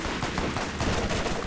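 Dense, continuous bursts of automatic gunfire from the video game Borderlands fill the whole short stretch at steady loudness, with no break in the shooting.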